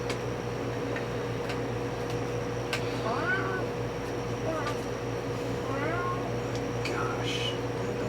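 A house cat meows several times, short rising calls spread a few seconds apart, close by over a steady background hum with light ticking and faint voices.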